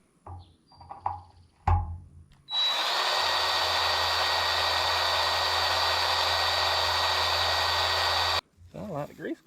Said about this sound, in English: Sounds like the grease gun ain't wanting to work.